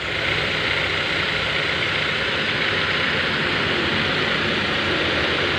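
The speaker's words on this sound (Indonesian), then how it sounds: "Ini kita nyalain engine sekaligus kita nyalain AC." A BMW E46/E36 engine runs at idle with the air conditioning switched on, producing a dense, steady roar and whir heard close up and without pause or voices.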